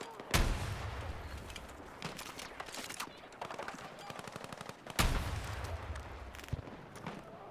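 Artillery fire support explosions in the Battlefield 6 open beta Breakthrough defense mode, two heavy booming blasts a few seconds apart over a steady bed of rapid gunfire and battle noise.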